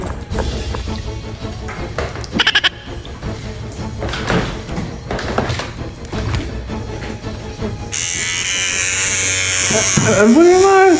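An electric hair clipper runs on hair that has had tape put on it, with knocks and thumps early, then a steady loud close buzz in the last few seconds while people talk and react over it.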